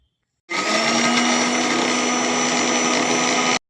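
An electric mixer-grinder whirs steadily for about three seconds as it grinds a spice mix of cumin, coriander and green chilli, starting abruptly after a moment of silence and stopping sharply, loud and close with no talking.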